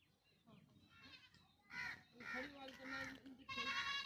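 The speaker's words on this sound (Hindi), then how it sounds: "ये वो अपनी बकरी दी है ना?" Several loud goat bleats from a flock of Hotel Beetal breed goats, close by and overlapping, with a person talking at the start.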